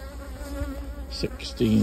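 Honey bees buzz steadily around an open beehive in fall, a continuous close drone, while a person speaks over it.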